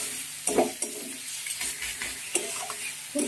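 Red amaranth greens frying gently over low heat in a pan, with a soft steady sizzle broken by a handful of scraping stirs and clinks of the spatula.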